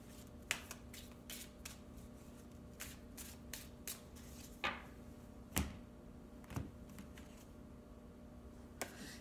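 Tarot cards shuffled and a card pulled from the deck, a series of soft, close paper flicks and slides with brief sharper snaps, quiet and intermittent.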